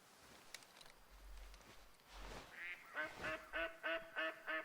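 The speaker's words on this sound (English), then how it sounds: "see if we can get a few ducks" Ducks in the hunting game Way of the Hunter quack in a rapid series of six or seven nasal calls near the end, preceded by soft footsteps and rustling through vegetation.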